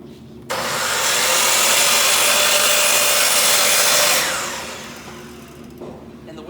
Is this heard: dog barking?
no